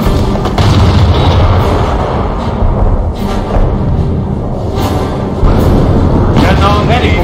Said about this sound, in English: Base is under enemy fire.